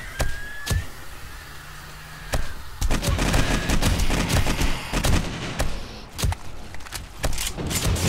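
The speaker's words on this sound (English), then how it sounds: "the turrets are still going off" Automated turrets in the video game 7 Days to Die fire in rapid, sharp bursts of gunfire over a steady rumbling background, loud and close. The bursts keep going without a break and no voices are heard.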